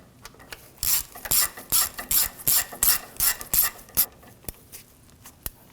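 A ratchet snugging down the water pump bolts on a 2007-2013 BMW 328i with the 3.0L inline-six, about a dozen close, rhythmic rasping strokes, then a few lighter clicks, with no talking.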